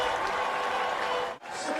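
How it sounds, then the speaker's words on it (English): A stadium crowd in Sacramento roaring and applauding after a late goal at a USL Championship soccer match, a dense sustained wall of cheering that dips briefly before surging again. "the crowd is losing it here in Sacramento"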